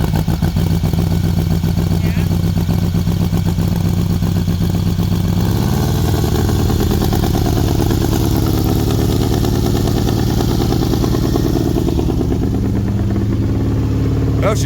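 Four-cylinder engine running steadily after starting, a loud continuous throbbing idle with clattering mechanical texture that shifts slightly in pitch partway through.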